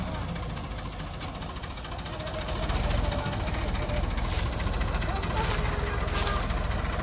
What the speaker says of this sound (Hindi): Mahindra 265 DI, 28 power, 35 power tractor.